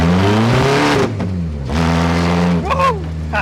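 A demolition derby car's engine revs hard and accelerates, loud and close, the pitch climbing and dropping through several surges.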